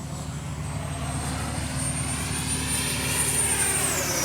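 Freewing Yak 130 70mm electric ducted-fan RC jet on a speed run, a loud, steady, high-pitched whine and roar, close and unbroken, with the pitch shifting as it passes; no talking.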